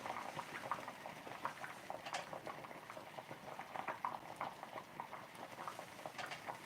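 Water boils in a pot with a spoon laid across the top, giving a soft, steady bubbling and popping patter that stays faint and continuous throughout.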